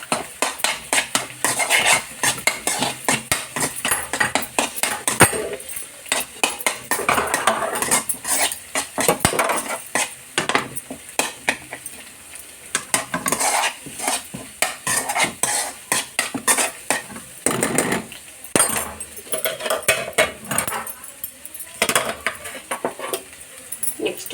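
A spoon scrapes and clinks against a pot while cooked rice is mixed with salt. The stirring comes in irregular, busy bursts with short pauses, close and moderately loud, and no one speaks.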